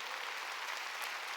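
Congregation applauding during a Wednesday worship service at a Korean church, a steady, dense wash of clapping from many hands, moderately distant and even throughout with no speech over it.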